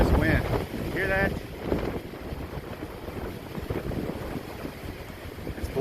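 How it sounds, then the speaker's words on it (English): Strong, gusty wind roars outdoors on a hike near a natural bridge, buffeting the microphone with a continuous low rumble, with a few brief voices heard early on. "Alright, look at this wind. Hear that?"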